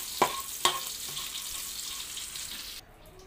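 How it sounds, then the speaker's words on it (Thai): Chilies dry-roasting in a pan for Thai grilled-mackerel chili paste give a faint, steady sizzle and crackle, with two sharp clicks near the start, before the sound cuts off near the end. "พริกเราก็มาคั่วก่อนให้สุก"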